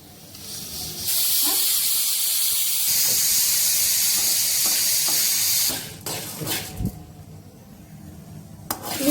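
Peanuts and spices frying in hot oil in a pan for a drumstick leaves fry, giving a loud steady hiss and sizzle for several seconds that drops off into quieter crackles and a few knocks.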